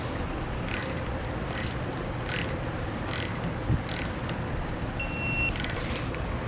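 Ratchet wrench with an 11/16 socket tightening the rear mounting nut on a 10-inch trailer brake assembly, a few faint clicking bursts over steady background noise.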